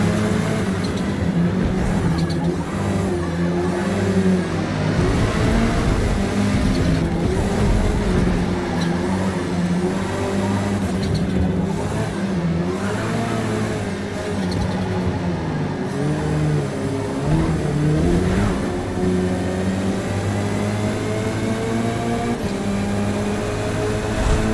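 Touring cars race in Forza Motorsport with steady, loud engines droning and shifting pitch as they accelerate and brake around the track, the roar continuous throughout.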